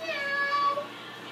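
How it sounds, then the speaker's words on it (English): A cat gives a single drawn-out, close meow lasting just over a second, clear and fairly loud. "He's a cat."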